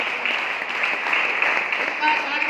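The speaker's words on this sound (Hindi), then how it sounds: "इनके अपलाइन के लिए तालियां बजा दो वीरेंद्र जी के लिए" Seminar audience in Bhiwani clapping for an upline, a steady continuous patter of applause throughout, with a voice speaking over it.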